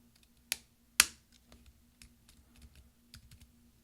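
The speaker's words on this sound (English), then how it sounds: "you're going to push down until it snaps, and there's 4 snaps in there" The right Option key of a 13-inch MacBook Pro Unibody (Core 2 Duo, 2.26 GHz) snaps onto the keyboard with two sharp, close clicks, followed by lighter scattered taps and fiddling.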